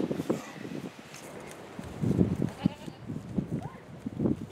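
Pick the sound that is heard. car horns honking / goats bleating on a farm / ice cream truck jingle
goats bleating on a farm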